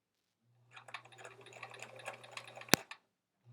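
Sewing machine stitching quilt block pieces for a sampler quilt, a steady close mechanical whir running about two seconds with one sharp click near the end, then silence.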